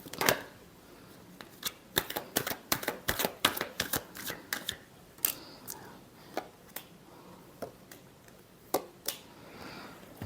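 Tarot cards being shuffled, a rapid series of crisp riffling clicks and slaps that bunch up in the first half, then thin out into scattered snaps, close and clear with no talking.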